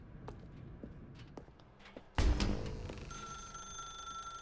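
Footsteps tap faintly, then a telephone in The Stanley Parable bursts into a loud bell-like ring that settles into a steady sustained electronic tone.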